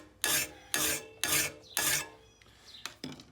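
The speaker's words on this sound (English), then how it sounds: "Use the rasp. The rasp will take a lot of metal fast." A metal rasp scrapes across a lawn mower blade in four loud, evenly spaced rasping strokes close by, then a few lighter, shorter scrapes.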